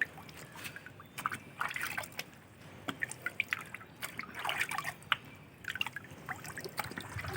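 Water poured while bending PVC pipe splashes and trickles in uneven drips and dribbles, faint and close, with soft irregular patter rather than a steady stream.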